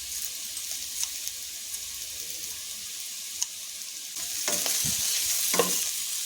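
Beetroot sizzles softly in a pan with garlic, turmeric and coriander, a low steady frying hiss with occasional faint clicks and stirring scrapes that grow a little louder near the end. No one speaks.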